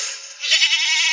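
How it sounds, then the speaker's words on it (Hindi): A goat bleats in one long, loud, quavering cry that wavers in pitch and holds to the end, heard alone and close. "इसमें तो बकरी बोल रही है"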